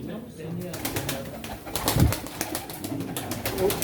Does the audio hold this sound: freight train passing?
no